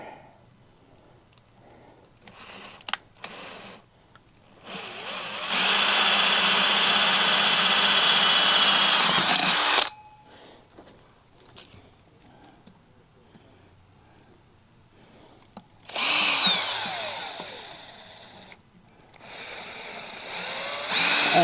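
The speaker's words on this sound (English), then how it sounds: "So I'm going to drill some drain holes, about 3 drain holes on the bottom here" A power drill whines in two long bursts drilling drain holes, separated by quieter stretches of small handling clatter nearby.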